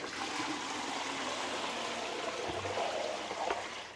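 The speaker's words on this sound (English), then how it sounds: "Alright, looks like my plasma table is out of water." Water pours into a plasma cutting table built from the bottom half of a 55-gallon drum, a soft continuous trickling and splashing with a few louder gurgles near the end.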